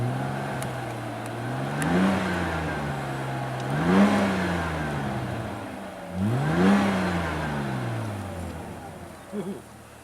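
Mercedes-Benz 190 E 2.6 with a muffler delete revving at idle, three distinct rising-and-falling throttle blips spaced a couple of seconds apart, close and moderately loud with a raspy exhaust tone.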